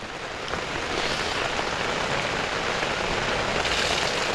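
Steady rain pours down outdoors as a dense, continuous hiss of drops at an even, fairly loud level throughout, with no voices.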